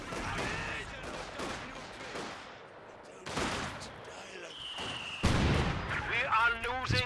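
Mortar fire in a Company of Heroes 2 battle: heavy booming blasts land at intervals amid crackling gunfire and rumbling explosions, with a voice talking over the combat.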